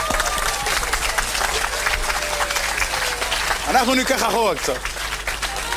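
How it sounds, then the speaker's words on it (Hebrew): Audience applause and scattered clapping at a wedding or event as a violinist takes the stage, steady through the clip beneath someone speaking over a microphone, with a brief rise of voices near the end. "אז תנו לה כפיים בבקשה."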